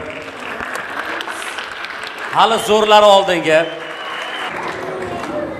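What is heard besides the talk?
audience applause at a concert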